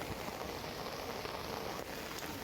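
Heavy rain pours down steadily at Shirdi, a dense, even hiss of drops drumming on surfaces up close, with no break and no voices.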